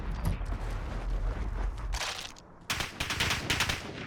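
Rapid automatic gunfire in Call of Duty Warzone rattles out in a dense burst, breaks off briefly, then resumes in fast bright volleys, loud and close.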